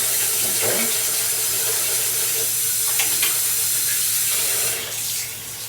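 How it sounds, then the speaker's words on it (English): Water runs steadily from a sink tap in an exam room, a continuous broadband hiss that holds for several seconds and then drops slightly toward the end, with no talking. "So you know this water will run warm eventually"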